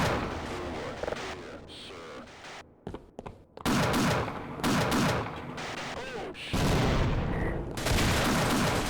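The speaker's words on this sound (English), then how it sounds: "I cannot take that guy out with the machine gun" Machine gun fire in the co-op shooter Sven Co-op, loud bursts of rapid automatic shots that stop briefly and then return in long dense volleys under game noise, with voices talking over parts of it.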